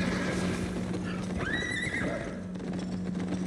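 A horse in a video game whinnies, a clear rising and falling neigh in the middle, over a steady game-audio bed with hooves clip-clopping and a constant hum.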